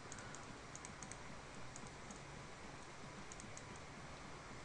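Typing on a sticky computer keyboard gummed up by spilled Coke, a steady close run of soft clicking keystrokes over a few seconds, with no voices.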